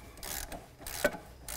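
Trolley jack being pumped under a Jaguar XJS to raise the suspension, a brief close sequence of ratcheting mechanical clicks and rubbing strokes in a quiet garage.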